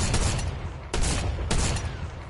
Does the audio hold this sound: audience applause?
no